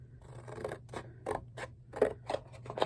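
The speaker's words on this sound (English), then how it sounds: "I'm going to decide how big I want to make this stamp and cut my cardboard" Scissors cutting a piece of cardboard for a craft stamp, about eight crisp snips in a steady rhythm, heard up close over a low background hum.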